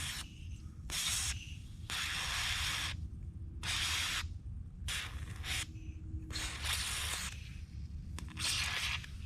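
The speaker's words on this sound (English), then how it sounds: "Put some penetrant on there." Aerosol penetrant sprayed onto threads during a radiator rebuild, in about eight short hissing bursts separated by brief pauses, close and fairly quiet, without talk.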